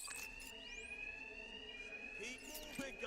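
An alarm sounds in the Batman Arkham Knight video game as a steady, faint electronic tone with sweeping pitches over a game soundscape. It plays quietly throughout alongside other game effects.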